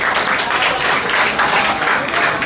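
Audience applause at a spiritual seminar in a college hall in Hyderabad: dense, continuous clapping from many hands, steady and loud throughout with no pauses.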